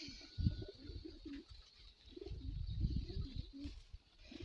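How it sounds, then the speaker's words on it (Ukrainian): Several pigeons squabble over leftover feed in a trough, cooing and fluttering close by, their low throaty calls overlapping in agitated bursts with occasional wing flaps. "О, що голуби роблять. Мало не б'ються там"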